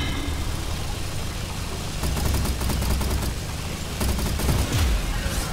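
Rapid bursts of gunfire crackle in the vehicle combat game Gear Up, two clusters of quick shots over a constant rumbling engine drone.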